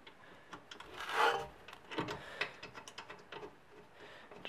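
Brake caliper bolts being threaded back in by hand during a brake pad replacement, giving soft metallic rubbing and rasping scrapes with light ticks, strongest in a short burst near the start, quiet and close with no talk.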